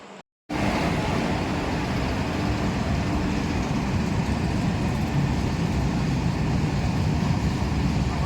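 After a brief silence, an LHB-coach train arriving at a station rumbles loudly and continuously, a broad steady roar of wheels and carriages close by.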